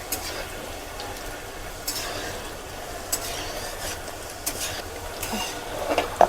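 Soft, continuous sizzling of goja dough frying in oil on low-medium heat, with occasional light clicks and scrapes, no talking.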